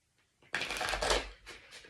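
Oracle cards are shuffled for a reading, one close riffling burst of papery flutter that swells and then trails off in a second, shorter flurry.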